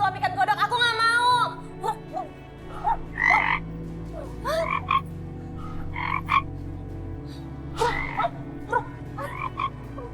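Repeated croaks from a frog, loud and close, come in irregular bursts over a steady low background hum, with a few short vocal-like squeaks mixed in.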